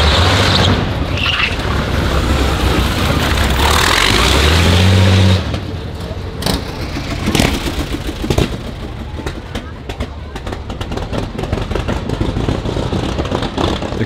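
BMW aircraft-engine special car Brutus with narrow tires, roaring loudly as it accelerates and spins its wheels, a heavy low engine drone for the first five seconds, then rougher bursts and rumbles continuing, with talk over it.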